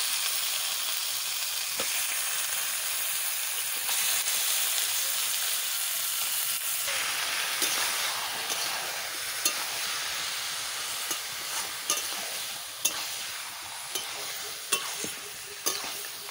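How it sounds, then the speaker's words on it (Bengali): Duck meat sizzles steadily as it fries in spices in a wok, a close, continuous hiss, with sharper stirring scrapes and clicks breaking in more often toward the end. "মশলা আমার ভাজা হয়ে গেছে, মাংস আমি দিয়ে দিচ্ছি"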